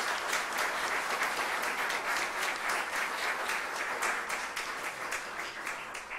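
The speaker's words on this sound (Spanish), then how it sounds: "Aplauso para estos hermanos nuestros." A church congregation at a Christmas novena mass claps together in steady, dense applause that gradually fades, heard alone without talk.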